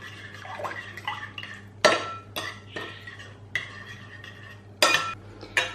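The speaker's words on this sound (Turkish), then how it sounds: "Tekrar şöyle karıştırıyorum" Utensils clink and scrape against a bowl while salted poğaça dough mixture is stirred, with several sharp clinking strikes over a softer scraping stir, close and fairly clear.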